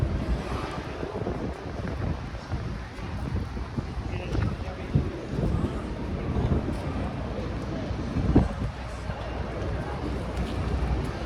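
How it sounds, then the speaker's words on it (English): Gusty wind buffets the microphone in a continuous low rumble, swelling and easing over several seconds, with faint street noise underneath, near Madison Square Park in Manhattan. "It's a very windy day in Manhattan."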